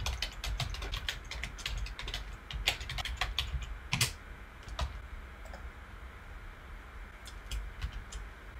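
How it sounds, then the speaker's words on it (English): Rapid typing on a computer keyboard as a command is entered, a close, steady run of crisp key clicks with a few louder taps, no voices. "we type in the License Smart Reservation install command and put this authorization code in there"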